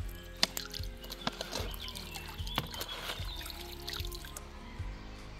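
Water poured through a portable water filter trickles and drips quietly, with scattered light clicks and plastic knocks over a soft, continuous flow, no talking.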